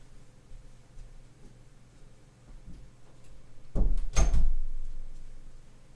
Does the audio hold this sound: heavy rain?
no